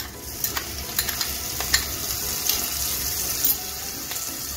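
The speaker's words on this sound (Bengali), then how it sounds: "গ্যাসটা মেটে করে পেঁয়াজ পেস্টটাকে আমি একটু ভেজে নিচ্ছি" Onion paste frying in oil over a medium flame, with a soft steady sizzle under repeated light scrapes and taps of a spoon stirring in the pan, close and fairly quiet; no speech.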